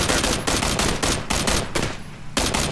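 Rapid bursts of gunfire in a battle royale video game, loud and close, coming in repeated volleys with short gaps, the shots alone with no talk.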